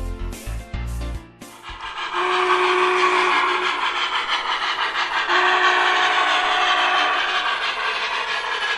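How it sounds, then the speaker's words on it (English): A model train's sound system plays after a few short clicks, a steady mechanical rumble and rail clatter with a sustained, road-specific tuned whistle tone running through it, fairly loud and close. "these master-crafted machines feature painstaking detail and realistic sound effects, including a quillable whistle with road-specific tuning"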